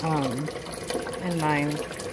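Tap water runs into a Presto pressure canner, a steady rushing fill partly masked by a voice that hums or speaks over it.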